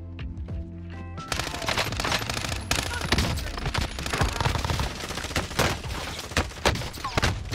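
Rapid bursts of automatic gunfire in Call of Duty Warzone begin after a quieter second of musical tones, then continue as dense, loud repeated shots with sharp cracks and echoes.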